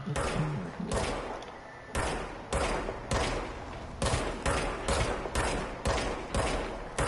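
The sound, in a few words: gunfire from a gun in a video game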